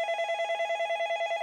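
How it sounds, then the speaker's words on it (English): Cell phone rings with a steady electronic tone pulsing in a quick regular rhythm, clear and close. The call comes through a MagicJack VoIP device. "now I'm gonna call on my cell phone here and see if my phone rings"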